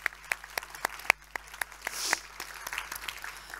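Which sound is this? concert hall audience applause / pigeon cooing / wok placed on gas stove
concert hall audience applause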